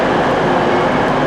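British Rail Class 323 six-car electric train standing at a station platform, a steady, dense rumble and hum with no breaks, close and fairly loud.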